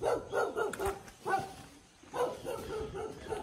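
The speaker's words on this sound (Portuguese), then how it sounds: "O cachorro..." A dog on a farm in the countryside barks repeatedly at moderate distance, in irregular bursts of several barks separated by brief pauses.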